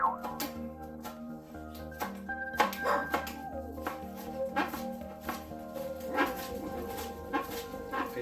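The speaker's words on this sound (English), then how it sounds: "the dogs are going a bit crazy here" Several dogs bark and whine excitedly in a home kitchen during cooking, a busy run of yips and whimpers repeating over about eight seconds at moderate distance, with no talking.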